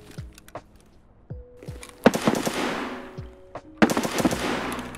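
Gunfire in Escape from Tarkov, with rapid automatic bursts crackling close and loud indoors between quieter gaps with faint single thuds and no speech over it.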